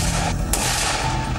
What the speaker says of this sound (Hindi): तभी गोलियों की तड़तड़ाहट ने लोगों को जागने पर मजबूर किया।